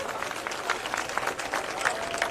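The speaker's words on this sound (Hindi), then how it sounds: "ताली बजा के अशोक गहलोत का स्वागत करो।" Crowd clapping at a Congress protest rally at Civil Lines gate in Jaipur, scattered claps that come and go under a murmuring crowd at moderate volume.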